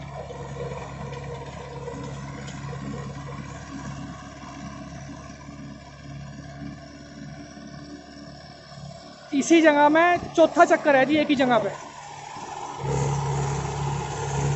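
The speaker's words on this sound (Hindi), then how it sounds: "भाई ट्रैक्टर की आवाज़ ऐसी है बिल्कुल ही साइलेंट" A Mahindra 575 XP Plus tractor works a 7-foot rotavator in a field, a steady low engine drone running throughout, with someone talking over it and a brief tonal squeal burst midway.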